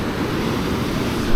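Ocean waves wash onto a beach at night on the ECR coast near Chennai, a continuous loud surf roar with wind buffeting the microphone and no voices over it.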